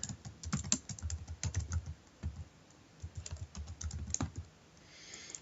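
Typing on a computer keyboard, a close, steady patter of keystrokes in bursts with short pauses, sounding alone with no talk.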